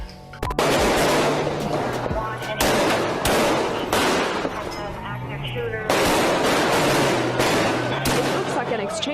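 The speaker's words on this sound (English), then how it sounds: "It looks like an exchange of gunfire right out of a Hollywood action movie." Heavy bursts of gunfire, rapid automatic volleys mixed with single shots, loud and dense, pausing briefly between sustained exchanges.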